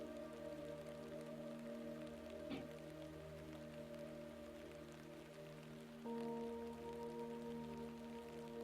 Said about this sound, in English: Imagine now, in that rain, you can hear them drops